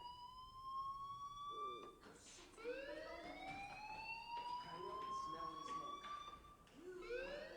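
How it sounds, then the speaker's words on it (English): An electronic fire alarm in the video game Life Is Strange whines in long rising and falling tones, restarting several times, fairly faint and steady in the background. "Hey, do you hear that fire alarm?"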